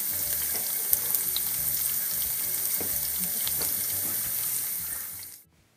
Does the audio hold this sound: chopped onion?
yes